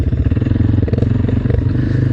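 400cc ATV engine idling loud and close, a rapid, even putter of firing pulses with a slight clattering edge, running steadily without revving.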